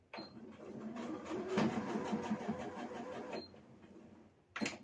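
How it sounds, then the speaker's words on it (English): An Elna 570A sewing machine stitching back and forth over a zipper with the zipper foot, running in a steady buzzing, rhythmic whir for about three seconds before stopping, close and clear, then a brief clack. "Do a back stitch on it, and do a front stitch on it again."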